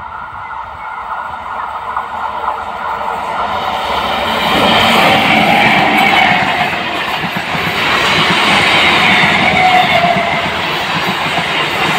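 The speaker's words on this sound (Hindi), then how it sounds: "ट्रेन भी घुस चुका है।" A train rolls along railway tracks beside a fishing spot, a steady rumble and clatter that swells louder midway as the carriages pass close by, with no talk over it.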